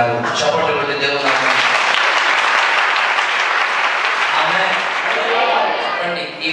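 A church congregation claps together in sustained, dense applause at a Telugu Christian sermon, loud and steady throughout with faint voices mixed in.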